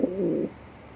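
A pet bird gives a loud cooing call up close, a warbling burst lasting about half a second before it trails off into quiet room tone.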